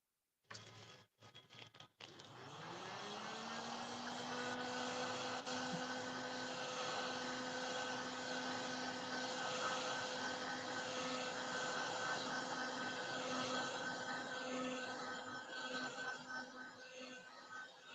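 Hair dryer drying a decoupage craft piece, switching on after a few clicks and spinning up to a steady, faint whirring hum that holds for the rest of the clip.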